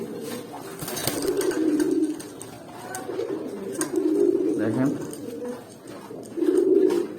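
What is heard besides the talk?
Katamuni pigeons cooing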